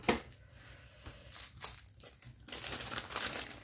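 Crinkly packaging from an autumn-winter paper craft set crackles and rustles as it is unwrapped, a steady close-up crumpling with sharper tearing bursts and no talking.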